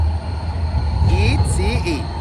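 A German long-distance train rolls past, a steady rumble with wheel squeals and brief high screeches under a layer of background noise.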